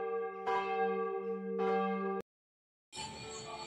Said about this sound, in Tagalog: Kanina pa tayo nakatayo at nagpapatunog ng kampana.